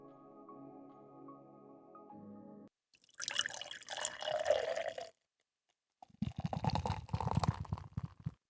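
1919 root beer from a 16-ounce can glugs and splashes into a mug in two close-miked bursts, the second fizzier and bubbling, after a quiet hum.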